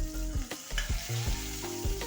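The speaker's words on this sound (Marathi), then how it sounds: "कढीपत्ता आणि लसण थोडं थोडं बारीक पेस्ट करून ते टाकायचं" Curry leaves and finely crushed garlic paste tempering in hot oil for a traditional tur-bean kadigole dish, a steady close sizzle with stirring scrapes and some clattering harmonic tones from the pan.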